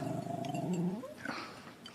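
A dog growls low and steadily for about a second, then gives a brief higher whimper, close and alone with no talking.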